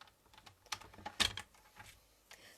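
A paper trimmer with a cutting blade slices through a piece of card, giving quiet close clicks and taps around one brief, sharper cutting stroke.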